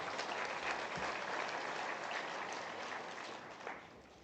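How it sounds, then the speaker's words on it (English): A conference audience at an oil and gas event in Namibia applauds the Honourable Minister, a steady, dense round of clapping from a large crowd that slowly tapers off. "Let's give our Honourable Minister another warm applause."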